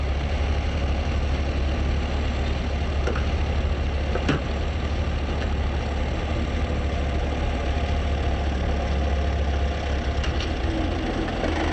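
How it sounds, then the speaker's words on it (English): Jet Provost trainer aircraft sit ready for takeoff at an RAF training college, their engines idling in a steady, even hum heard alone at a distance, with a few faint clicks. "many of Cranwell's 70-odd jet provosts stand ready for takeoff"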